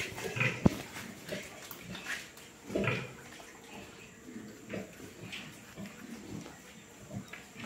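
Boar pig on a farm among piglets grunting in a few short, low bursts, near and moderately loud, with quieter rustling between grunts.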